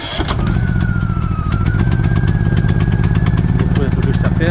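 A Champion 3500W propane/gasoline generator fires up after a pull-cord start, a short cranking burst followed by a loud, steady close engine drone that holds to the end, with a voice speaking briefly under it.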